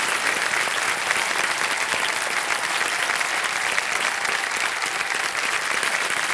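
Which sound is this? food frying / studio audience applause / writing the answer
studio audience applause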